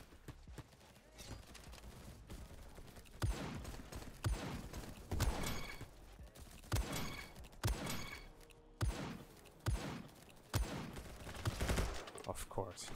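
Rapid gunfire bursts from the online shooter Bad Business, a string of sharp close shots in uneven volleys over about thirteen seconds, with faint game noise between them.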